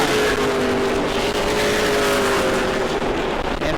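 Race cars roar around an oval short track at New Smyrna, a loud, sustained engine drone with steady pitched tones, no talk, as the field pushes through the corners.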